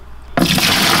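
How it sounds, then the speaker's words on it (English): Plain water gushes into a container at close range for a go-kart and mini bike detailing job, starting abruptly after a brief quiet moment and then pouring steadily and loudly to the end with no talking. "Now I can fill up the just standard water."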